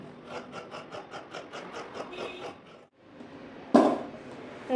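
Scissors snip through kurti fabric in a quick, regular series of short cutting strokes, followed by a pause and then a louder rustle of cloth being handled, close up.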